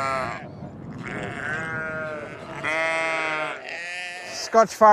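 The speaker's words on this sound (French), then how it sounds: "part s'occuper de ses meilleurs amis dans cette contrée isolée, les moutons" A flock of sheep from a thousand-head herd in isolated Scottish country bleats repeatedly, several overlapping calls near and loud, with a sharp noise near the end.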